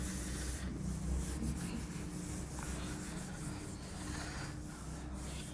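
A duster rubs writing off a classroom board during a chemistry lesson, making rough, continuous scrubbing strokes with a brief pause between passes, close and fairly loud.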